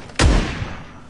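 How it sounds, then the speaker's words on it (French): One loud rifle shot in PUBG, a sharp close crack with a booming tail that fades over most of a second, heard alone. "J'ai mis une balle de fusil."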